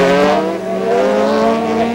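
Rally race cars, including a factory Opel Astra, are thrown into corners on an ice circuit at Val Thorens. Loud, sustained engine drone holds steadily throughout, with shifting harmonic tones as several cars rev through the bends.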